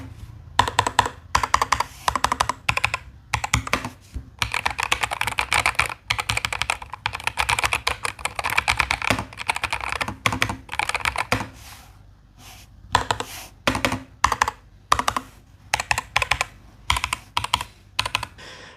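Typing on a NuPhy Air75 V2 low-profile mechanical keyboard fitted with Aloe switches: steady bursts of soft, close keystrokes with brief pauses, heard alone without talk.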